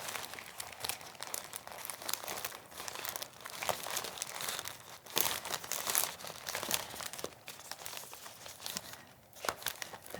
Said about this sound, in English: Then I just put a bit of tape around it.